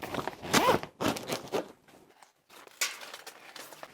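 Zippers on the flaps of a camera gear bag are pulled open and shut in quick close-up bursts, several sharp ratcheting rasps separated by brief silences.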